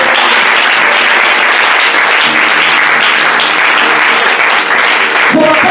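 A church congregation applauds loudly and steadily, with dense overlapping clapping that fills the whole clip, close and sustained.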